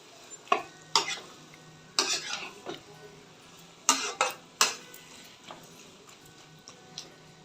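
Onions and tomatoes sauté in a pan and are stirred with a spoon, giving sharp intermittent scrapes and knocks over a faint, low sizzle, close and without talk.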